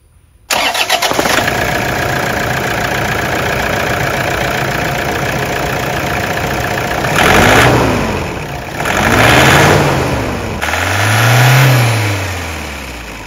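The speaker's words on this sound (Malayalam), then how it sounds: "ഇനി ഞാനുണ്ടല്ലോ എഞ്ചിൻ സൗണ്ട് നിർമ്മിച്ചു തരാം." A 2014 Toyota Innova V engine cranks and catches, then settles into a steady, loud idle, with a few brief revs rising and falling near the end.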